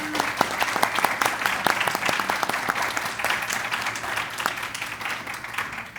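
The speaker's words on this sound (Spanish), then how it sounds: "Les pido un aplauso." A seated audience welcomes three panelists with lively, sustained applause. Dense overlapping claps stay fairly close and steady throughout, at a conference session on computational tools for urban mobility.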